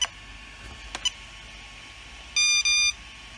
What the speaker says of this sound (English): and it will beep twice